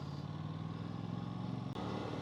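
Aprilia RS457 motorcycle engine holding a steady, droning drone while being ridden on a road ride, loud and continuous throughout with a brief dip near the end, no talk over it.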